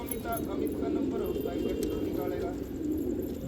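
Patiala pigeons on a rooftop coo softly and steadily under a voice talking throughout, against a busy outdoor background.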